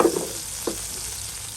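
Pangas fish frying in oil that is swirled around the pan, with a brief sizzle and stir at the start, a short scrape partway through, then a steady low hiss of hot oil. There is no talk.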